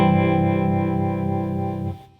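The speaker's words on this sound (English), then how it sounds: "I've got the depth on the harmonic tremolo set at halfway." A sustained electric guitar chord rings through a harmonic tremolo effect set at half depth, loud and close with a gentle rhythmic pulsing in the tone, holding steady for about two seconds before cutting off.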